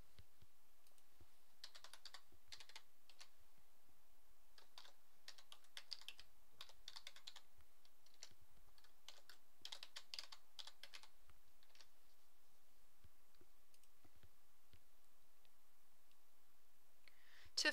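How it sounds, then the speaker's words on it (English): Username and password typed on a computer keyboard, bursts of quiet close key clicks spread over a long stretch with short pauses between, ending in a sharper click. "enter your username and password and then click on the login button"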